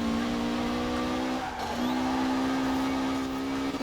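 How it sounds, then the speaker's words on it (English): Tires squeal and scrabble for grip as a car engine drones steadily in Forza Horizon 4, with a brief break in the whine partway through. "You can really hear those tires struggling to keep"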